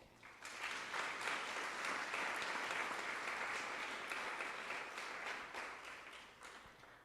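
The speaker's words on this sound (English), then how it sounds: "Please give a warm round of applause for Jim Shea." A warm round of audience applause for Jim Shea at a Maryland governor's debate, steady and full clapping from a sizable crowd that holds for several seconds before gently tapering off.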